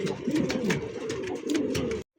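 A blue satin pigeon coos close by in soft, repeated throaty burbles at a pigeon farm, steady and fairly loud, then cuts off abruptly.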